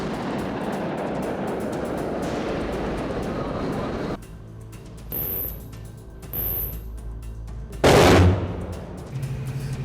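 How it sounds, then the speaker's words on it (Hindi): Gunfire from a Russian Black Sea Fleet exercise aboard the missile cruiser Moskva: a harsh rushing roar gives way to separate bursts of firing and one loud, sharp blast, with a voice faintly present. "किस तरीके से ये दमादम फायरिंग और गोलीबारी हो रही है"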